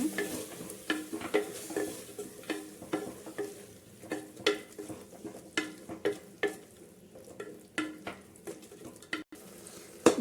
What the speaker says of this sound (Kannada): ನಾನು ರುಬ್ಕೊಂಡಿರೋ ಮಸಾಲೆ ಸೇರಿಸ್ಕೊತಿದ್ದೀನಿ ಇದನ್ನು ಸ್ವಲ್ಪ ಹಸಿ ಸ್ಮೆಲ್ ಆಗೋದು ಚೆನ್ನಾಗಿ ಫ್ರೈ ಮಾಡ್ತೀನಿ